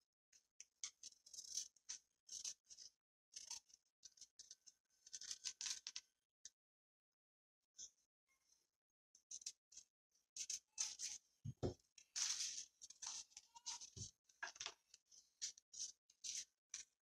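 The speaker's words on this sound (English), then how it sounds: "I'll cut the window out of the parchment paper" Scissors snip through parchment paper in short close bursts of crisp clipping and rustling, with a pause midway, quiet and alone, while cutting a window out for a Latrax Teton RC body paint job.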